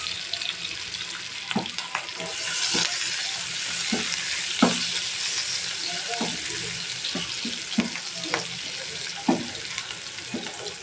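Chopped onions sizzle steadily in a hot wok, a constant frying hiss broken by occasional sharp clinks and scrapes of stirring.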